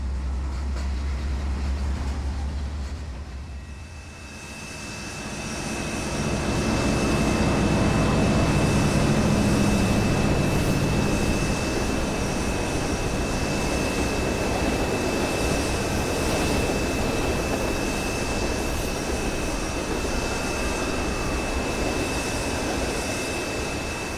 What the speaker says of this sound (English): A short coal train speeds by as the 1086 takes a spin on the turntable.